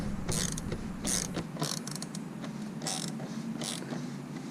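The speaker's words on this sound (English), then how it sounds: "Line her up, tighten the screws." Screws being tightened on the license plate of a Dodge Challenger Hellcat, a series of about five rhythmic ratcheting bursts, close and moderately loud, with no talking.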